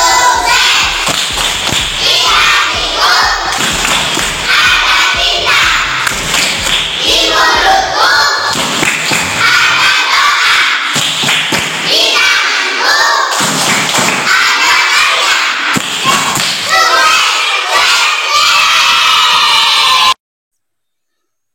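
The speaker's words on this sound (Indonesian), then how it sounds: "kita lakukan tepuk sukses yuk." Schoolchildren in a fourth-grade classroom doing the 'tepuk sukses' clap chant, loud rhythmic group clapping and thumping patterns mixed with young voices calling out, close and energetic for about twenty seconds before stopping abruptly.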